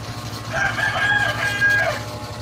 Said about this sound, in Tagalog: sigsaba ang manok